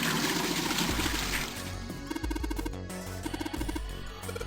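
Water poured into a toilet tank in the video game Zero Escape: Nine Hours, Nine Persons, Nine Doors, a steady pouring trickle under a looping game music track.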